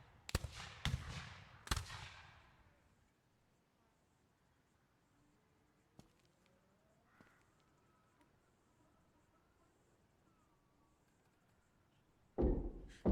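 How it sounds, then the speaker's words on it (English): Several sharp gunshots crack in quick succession near the start of a scene set in Jamestown, Alabama in 1888, followed by a long quiet stretch with faint insect-like whines and another loud burst of bangs at the end. "There are more gunshots."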